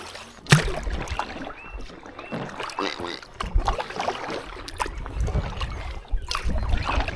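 Steady paddling of a drop stitch packraft on open water into a light headwind, with soft irregular splashes and water swirl around the hull and a sharper splash near the start.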